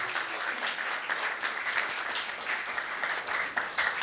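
A crowd applauds steadily, a dense wash of clapping that holds at an even, lively level throughout.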